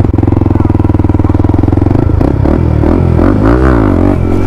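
Modified KTM Duke 390 motorcycle attempting a wheelie, loud and close, a steady pulsing idle that breaks into sharp revving and a rising engine note.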